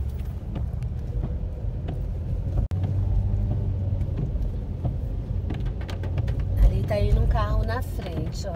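A car creeping slowly down the steep, winding Ubatuba mountain road toward Paraty, a steady low engine and road rumble with wind buffeting the microphone and a few thumps.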